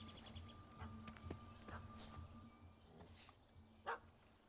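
A dog barking in The Witcher III, a few short yaps scattered through a busy game soundscape of ambient tones and background noise, moderately faint with one sharper call near the end.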